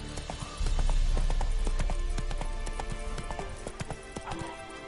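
Hooves of a horse galloping in The Witcher video game, a steady rapid clip-clop rhythm that starts abruptly and runs close and loud throughout, with a brief whinny-like tone and faint music underneath.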